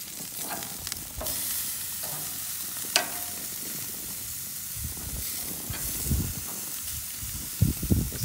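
Freshly flipped chops sizzle on a grill, a continuous hiss with occasional pops and a few clanks of a utensil, heard up close with no talking.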